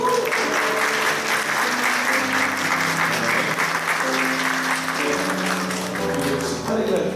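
A church congregation at a Sunday worship service claps in welcome, a sustained, dense round of applause filling the hall, with soft music playing underneath and no talking.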